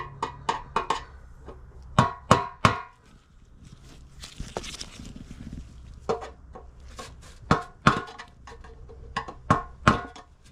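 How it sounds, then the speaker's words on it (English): Sharp metal-on-metal hammer blows peen small mushroomed metal bits on a bike part, struck in irregular bursts of two or three hits with pauses between, close and fairly loud. "I might be able to hammer it through"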